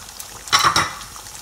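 An egg hits hot oil with golden fried garlic for fried rice, giving a brief burst of sharp sizzling and crackle that swells for a moment and then settles into a faint hiss.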